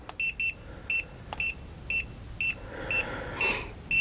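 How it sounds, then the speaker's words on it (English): A TireMinder i10 TPMS monitor on a 2018 Coachmen RV sounds its low tire pressure alarm: a steady series of about nine short, high, clear electronic double beeps spaced evenly about half a second apart, with faint background noise. "You can see it's beeping,"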